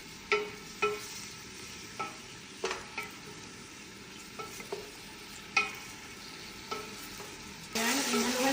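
Onion frying in corn oil is stirred in a pan, with a soft background sizzle and a series of sharp, irregular scrapes and taps of the utensil. A louder burst of sizzling comes near the end.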